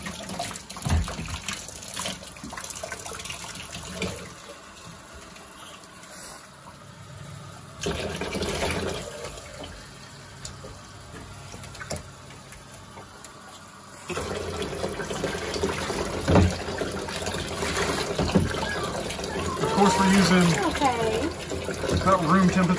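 Water runs and splashes steadily for a long stretch, a tap filling a tub with lukewarm water to bathe an 11-week-old Boston Terrier Pug puppy, with someone talking over it at times.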